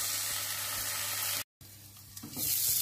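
Seekh kebabs fry in a pan with a steady broadband sizzle, then a brief dropout, and the crackle returns louder with a few sharper spits and pops toward the end.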